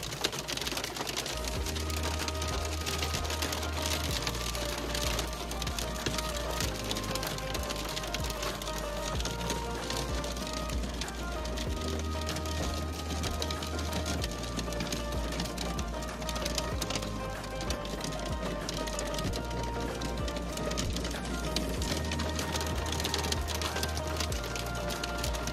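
Hail pelting down outside a house in England on a stormy day, a steady dense patter of small impacts continuing throughout with a low hum underneath.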